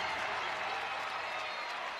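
A crowd at a women's college basketball game applauds and cheers as a broad, steady wash of clapping, fairly faint and continuous throughout.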